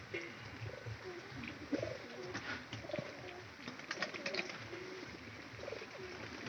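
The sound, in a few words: pigeons cooing in a loft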